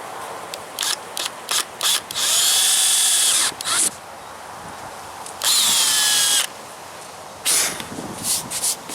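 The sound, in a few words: power drill drilling holes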